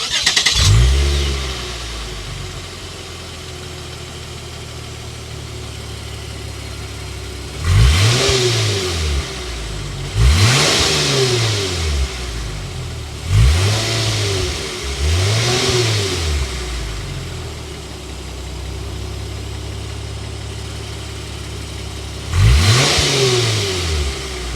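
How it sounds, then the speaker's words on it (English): A 2022 Lexus RC 350's naturally aspirated V6 cranks and catches, then settles into an idle and is revved sharply several times, each throaty rev dropping back to idle. "start it up so you can hear that exhaust note."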